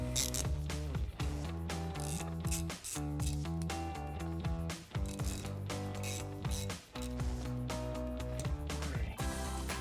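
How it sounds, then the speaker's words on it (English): A ratchet wrench with a T30 Torx bit tightens a Torx bolt on the front hub of a 2007-2018 Chevrolet Silverado during a brake install, giving quick, steady clicking. "reinstall our Torx bolt, and tighten it down with our T30 Torx bit"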